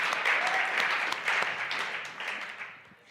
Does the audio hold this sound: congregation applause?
yes